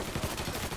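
Continuous gunfire from the video game Mafia 3, dense, loud and close, with rapid overlapping shots and no talk.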